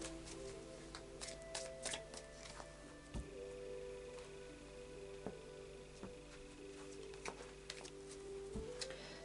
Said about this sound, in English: Just do a final shuffle.